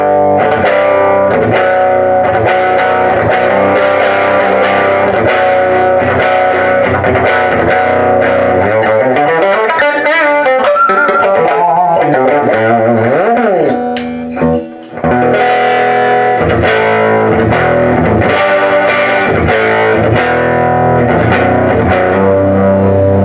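Electric guitar played loud through an early-1960s Silvertone guitar-case amp, distorted chords and bending notes ringing out continuously with a brief dip near the middle.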